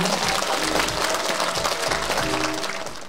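Dense audience applause welcoming a Buddhist monk to the stage at the opening ceremony of a city Buddhist choir festival, loud and sustained, tapering slightly at the end.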